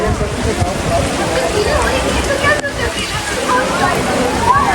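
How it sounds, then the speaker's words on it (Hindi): Heavy rain pours on a university campus, with a continuous rushing, sloshing wash of water and splashing close by, steady and loud throughout. "फुल बारिश है"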